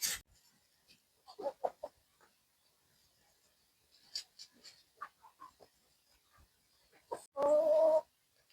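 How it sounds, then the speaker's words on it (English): Chickens clucking and calling on a farm while feeding on a compost heap, with scattered soft clucks and scratching, then a loud, close rooster-like squawk near the end. "when they are feeding on this compost, they are helping to turn it"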